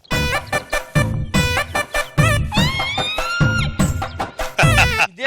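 A human voice imitates a rooster during a comedy skit about a cockfight, with loud, continuous clucking and warbling crow-like calls in rapid bursts that fill the whole stretch.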